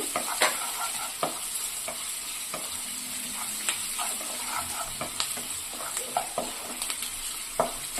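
Onions frying in a pan for capsicum curry, a continuous sizzle broken by repeated sharp scrapes and clinks of a spoon stirring, close and steady with no talking.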